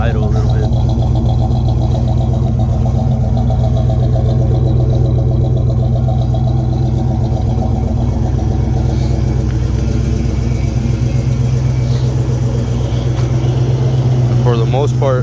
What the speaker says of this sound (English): You can kind of hear it right there, the idle a little bit.